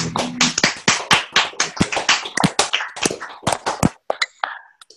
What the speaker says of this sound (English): last round of applause to everyone